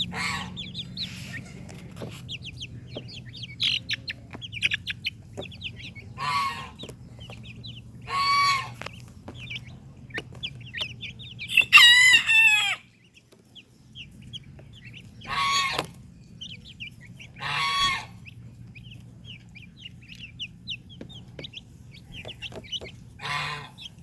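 Chickens cluck and a rooster crows on a small farm, with scattered bursts of clucking and squawks and one prominent nearby crow amid a low background hum.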